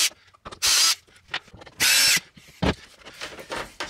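A power drill spins screws out of an RV trailer in two loud, short bursts of about half a second each, separated by quiet handling clicks and rustling.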